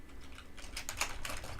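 Fingers tap on a lagging computer keyboard in quick, uneven clusters of light clicks that speed up toward the end, close and fairly quiet, with no voice over them.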